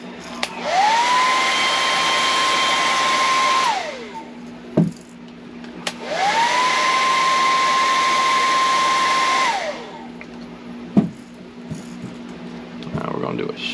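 A heat gun heat-setting paint on a shad popper fishing lure blows in two long bursts, a loud steady whooshing hum with a rising whine at start and falling at stop, with clicks between.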